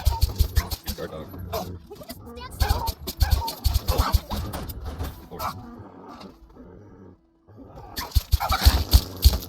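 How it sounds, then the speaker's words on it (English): In a Fallout 3 game, a guard dog barks and snarls in sharp repeated bursts amid combat noise, with a brief lull before the barking resumes loud and close. "Guard dog."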